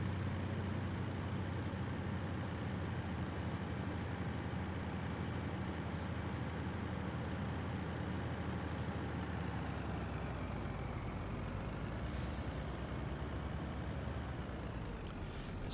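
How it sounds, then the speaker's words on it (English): Low diesel rumble of a truck in a farming simulator as it is driven into a building, a steady engine drone with the low end dropping away near the end and a brief hiss-like burst shortly after. "I'll park it in the building, I guess."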